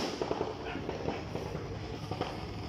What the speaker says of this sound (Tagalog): Wala kayong fireworks, wala kay Ate Crisel.